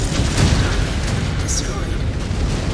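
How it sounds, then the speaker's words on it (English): A destroyed enemy mech explodes in MechWarrior 5: Clans, making a loud, close boom that swells into a sustained roaring rumble and holds for a few seconds, with no talking. "Enemy mech eliminated."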